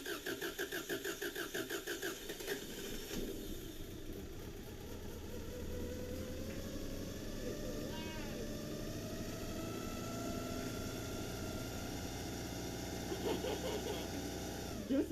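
A 1998 Subaru Legacy 2.2 engine, freshly fitted with a new timing belt, cranks with a rhythmic starter churn, catches and settles into a steady running idle, close and fairly quiet.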